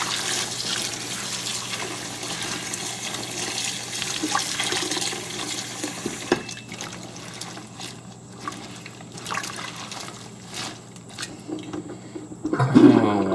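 Tap water runs steadily over green beans being washed in a sink, a soft continuous hiss and splash with scattered clinks and handling noises, faint and ending with a brief louder clatter.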